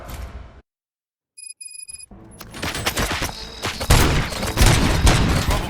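Gunfire in the video game RoboCop: Rogue City: after a moment of silence and a few electronic beeps, loud bursts of rapid shots and impacts build in intensity.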